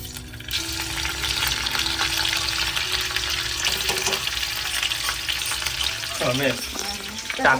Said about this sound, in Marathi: जो आपण ठेचा ठेचून घेतला इकडे तो आपण कढईमध्ये टाकून घेऊया.